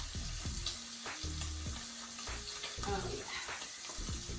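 Bacon sizzles and crackles steadily in a skillet, close and continuous, while someone talks briefly over the frying.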